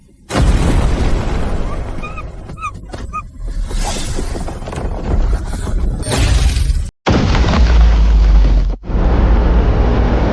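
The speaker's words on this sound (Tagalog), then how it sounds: "Pumuputok na ang harang." A magical barrier bursting apart in a fantasy story, loud explosive crashing and shattering with a sustained roar, an abrupt cut, then another dense, heavy burst of noise.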